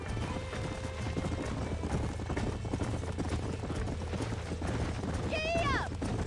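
Horse hooves clip-clop in a steady rhythm in the Western video game Red Dead Redemption, with a brief whinny near the end and talk over it.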